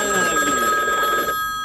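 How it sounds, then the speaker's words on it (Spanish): A telephone rings in a house with a bright, electronic, multi-tone trill. It sounds loud and close, then cuts off abruptly just before the end. "Suena el teléfono."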